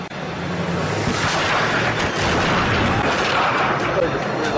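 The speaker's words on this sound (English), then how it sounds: "The goons get their comeuppance when the fireworks explode in their own car." Fireworks explode inside a car in a rapid, loud barrage of cracks and booms that blend into a dense, continuous roar, with voices mixed into the chaos.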